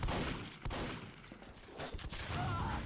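Shotgun blasts from the video game Team Fortress 2 during a competitive Ultiduo tournament match, bursts of sharp gunfire cracks amid continuous game noise and explosions.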